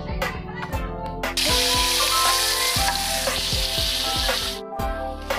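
Potato and cabbage fry in hot oil with a loud, steady close sizzle, broken by repeated scraping stirs of a utensil against the pan and a brief quiet gap near the end.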